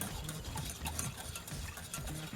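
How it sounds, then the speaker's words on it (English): Garlic sauce mixture being stirred in a bowl, giving a steady scraping, swishing rhythm with soft knocks, close and fairly quiet throughout. "I'm gonna mix this up."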